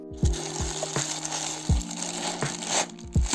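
A parcel being unwrapped carefully by hand, with close paper crinkling and rustling in short bursts and several soft thuds, no talking.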